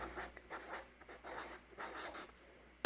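A pen or pencil writes a single word by hand, soft scratchy strokes in short bursts, close and quiet.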